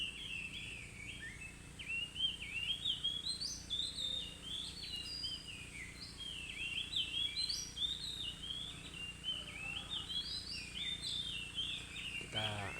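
An oriental magpie-robin sings outdoors in natural surroundings, a continuous run of varied whistled phrases and trills from fairly close over a low steady background hum, with no talking during the song.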